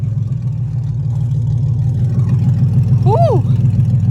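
A rough, loud supercharged Monte Carlo engine with no exhaust fitted idles and rumbles close by, swelling slightly, with a brief whoop from a voice near the end.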